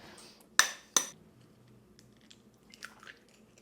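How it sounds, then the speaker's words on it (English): Four eggs being separated, yolks from whites: two sharp shell cracks close together, then softer taps and clinks against a bowl, with quiet room sound between and no talk. "So we need to separate 4 eggs, yolks in one, whites in the other."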